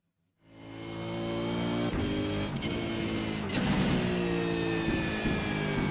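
A Holden Commodore V8 race car in a racing video game drives a lap, its engine droning steadily and loudly from the first half-second, with rising and falling revs through gear changes and no talking.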